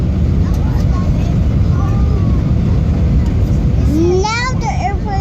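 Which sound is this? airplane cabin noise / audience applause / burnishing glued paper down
airplane cabin noise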